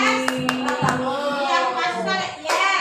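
Rhythmic hand clapping in a classroom clap routine, several crisp claps punctuating children's voices chanting along in unison.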